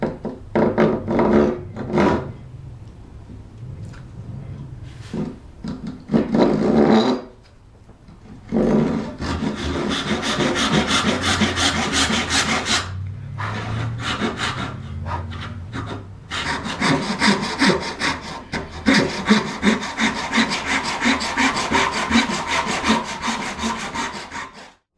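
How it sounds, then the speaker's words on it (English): A hand saw cuts a kerf into a thin wooden dowel with rhythmic back-and-forth rasping strokes, loud and close, pausing briefly between bursts before sawing steadily again. "Use a saw that has the plate the same thickness as that steel"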